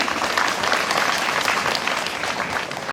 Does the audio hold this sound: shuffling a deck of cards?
no